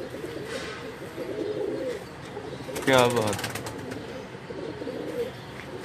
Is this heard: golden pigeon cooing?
yes